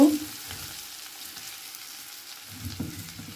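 Ginger paste sizzles softly in a pan of reddened frying onions, a low steady fry with a couple of quiet bursts of scraping as it is stirred, close and faint.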